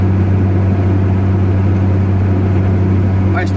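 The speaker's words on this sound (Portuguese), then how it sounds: "Faz tempo que eu não vejo caminhão com o motor dele mesmo funcionando, viu? Igual aquele ali." An Alfa Romeo 180 truck engine runs steadily at idle, a continuous low rumble with strong low hum, close and loud, holding constant throughout with no talk.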